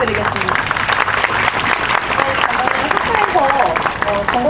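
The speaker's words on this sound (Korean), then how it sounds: "서현주 아나운서에게도 다시 한번 큰 박수 부탁드리겠습니다." A large crowd of resident doctors at a rally claps loudly and steadily throughout, with babble and voices mixed into the applause.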